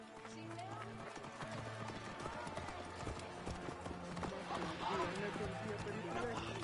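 Hooves of a stolen horse clatter away at a gallop in Assassin's Creed Origins, a rapid irregular clip-clop mixed with game sound and other noise, moderately faint throughout.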